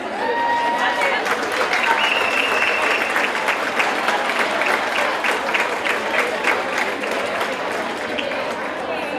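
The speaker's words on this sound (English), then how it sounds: "I'd like to start tonight by calling for a round of applause for James Rocket." A round of applause rises from the audience at an Inspiring Women of Huron evening event honoring James Rocket, a loud, sustained wash of many hands clapping close by, with crowd murmur mixed in.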